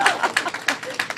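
Audience at a comedy club show claps in a short burst of scattered, close hand claps, with a little voice mixed in.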